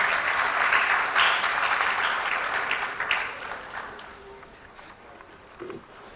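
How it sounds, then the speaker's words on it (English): Applause from a crowd at an officers' promotion and decoration ceremony, dense clapping that stays steady for several seconds, then thins out and fades toward the end. "Please, a round of applause."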